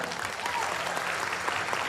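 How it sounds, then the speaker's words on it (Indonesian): A brief burst of lively applause from a seminar audience, dense and even throughout the moment, close and fairly loud with no talking over it. "Tepuk tangan paling meriah buat Anda."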